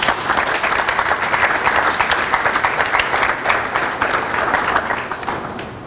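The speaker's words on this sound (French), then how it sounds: "au travers des applaudissements nourris" Loud, sustained applause from a large audience at an international conference on managing the Virunga volcanoes in Goma, dense clapping filling the whole stretch at a steady level.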